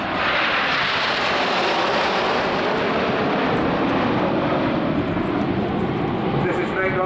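Red Arrows BAE Hawk jets roar past in Typhoon formation at an airshow in Southport, a loud, sustained broadband jet rush that fills the whole stretch.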